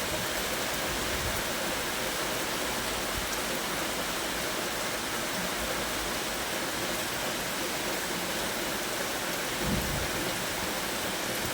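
Heavy rain pours steadily in a close, even hiss, and a couple of low thunder rumbles roll underneath.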